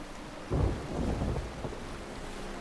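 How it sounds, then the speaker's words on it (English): Rain and a deep roll of thunder sound in a pirate sailing video game, the rumble swelling suddenly and fading over steady rainfall. "And hearing all this rain is not helping."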